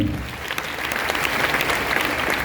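Loud, steady applause fills the hall at a motivational success-story event, a dense continuous patter of many hands clapping without pause throughout.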